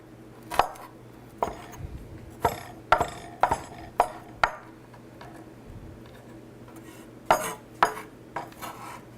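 A knife mincing peeled garlic on a cutting board, with sharp, close chopping taps that come in irregular clusters and pauses and no talking.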